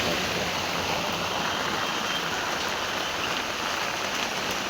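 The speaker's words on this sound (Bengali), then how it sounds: "জোর বৃষ্টি হচ্ছে।" Heavy rain pours down outdoors as a loud, steady, dense hiss of drops drumming on surfaces, unbroken for the whole stretch and with no voices.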